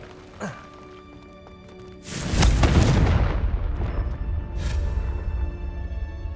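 Confringo fire spell blasting in the Hogwarts Legacy video game, a loud close boom that bursts in suddenly, then a long rumbling roar that slowly fades, with a brief whoosh after a small cast sound.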